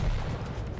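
A rocket fired in the arena shooter Quake Champions during a competitive match: a dense low boom with a rumbling blast that holds steady for under a second, loud and close.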